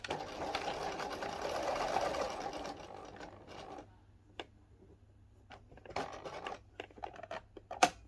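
A sewing machine stitches an apron seam along an old stitching line, running steadily up close for a few seconds, then going quiet apart from scattered clicks and handling noises before a brief final burst.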